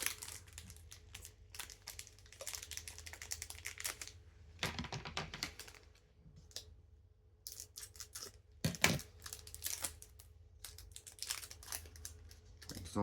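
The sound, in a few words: Pokémon booster pack wrappers crinkling and tearing open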